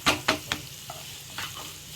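Chopped onions and finely cut coriander fry in a pan for aloo-stuffed idli filling: a few sharp stirring taps and scrapes sit over a soft continuous sizzle, close by and without talk.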